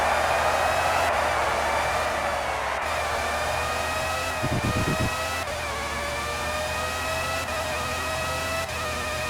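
Formula 1 car engine from the PlayStation racing game Formula 1 97, a loud, high-pitched whine that climbs steadily through rising gears with brief shift dips, continuous and close throughout.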